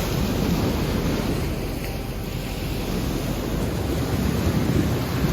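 Steady Caribbean surf in Puerto Rico rumbles and washes onto the shore behind hotels, a continuous broad roar with gusts of wind buffeting the microphone.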